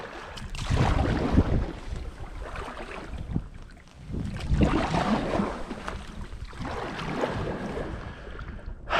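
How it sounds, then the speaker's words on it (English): A kayak rams through ice on a frozen lake, giving continuous scraping, crunching and splashing with a brief lull midway, close to the microphone and heavy with wind noise. "I am gonna try and get a running start and try and break as much of this ice as I can."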